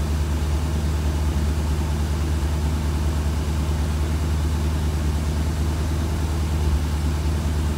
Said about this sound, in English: That is a high idle here.